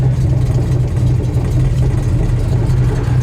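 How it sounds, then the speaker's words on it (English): A 1970 Dodge Dart Swinger engine idling in gear at about 500 to 600 RPM, a steady deep low rumble with an even burbling pulse, loud and close with no talk. "sits down here and idles excellent"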